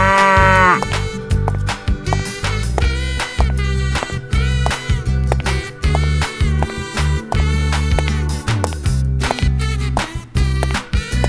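A cartoon cow moos loudly at the start, and bright, rhythmic children's music plays throughout.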